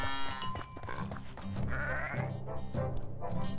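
Sheep bleating as a sound effect in a children's farm read-aloud, a few wavering bleats in close succession, loud and clear with no talking over them.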